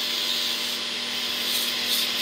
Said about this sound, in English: And I'm just using this coarse sanding band.